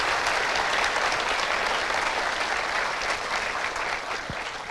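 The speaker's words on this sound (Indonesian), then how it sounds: "Kita berikan aplaus orang tua tercinta." Sustained applause from a studio audience at an Indonesian talk show, a dense steady wash of clapping that fills the whole stretch and tapers slightly at the end, honouring a guest's father.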